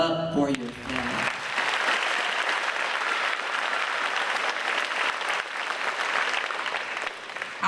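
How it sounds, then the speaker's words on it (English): An audience at an eighth-grade bridging ceremony breaks into sustained, loud applause filling the room, continuing steadily for several seconds after a brief spoken line at the start. "Community, clap it up for yourself."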